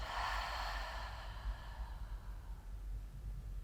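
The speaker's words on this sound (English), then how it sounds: "And exhaling out of the mouth." One slow, deep breath is exhaled through the mouth during a guided relaxation session, a soft airy rush that is strongest at the start and then fades into quiet room noise.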